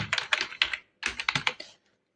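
Typing on a computer keyboard while drafting in AutoCAD: two quick close bursts of several crisp keystrokes each, separated by a short pause, with no talking.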